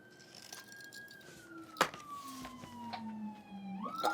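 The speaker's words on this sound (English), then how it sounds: "But that was definitely an ambulance" An ambulance siren on a city street outdoors passes by with a steady, falling wail over background traffic noise, heard from a moderate distance.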